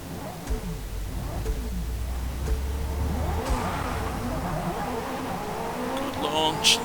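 A race car in Forza Motorsport 5 launches off the start line, its engine revving and rising in pitch as it accelerates, with a voice talking over the engine noise.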